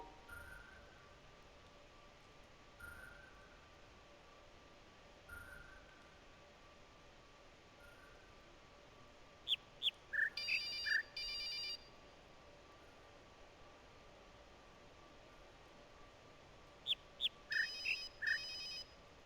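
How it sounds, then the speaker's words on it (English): A phone ringtone plays two separate bursts of electronic trilling ring tones, faint and short, over quiet steady background hiss, with soft periodic chirps earlier on. "Is there really a phone call to fuck up my hearing?"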